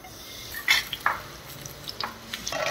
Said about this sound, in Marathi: आता आपण ह्या तुपामध्ये परतवून घेणार आहोत.